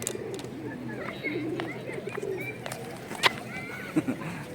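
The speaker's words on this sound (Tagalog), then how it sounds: "May mga kalapati." Soft pigeon coos and rustling birds nearby in an open outdoor space, with faint background chatter and a few sharp clicks.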